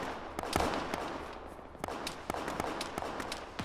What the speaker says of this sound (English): those rounds are getting close